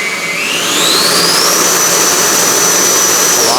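An FMS Super Scorpion V2 90mm electric ducted-fan RC jet throttles up, a loud close whine rising in pitch and then holding at a steady high roar.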